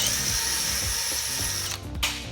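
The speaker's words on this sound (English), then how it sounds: "you got to drill one hole here" A power drill whines loudly and steadily while boring a hole in a Jeep JL lower control arm bracket, with the pitch dipping briefly near the end as the bit bites.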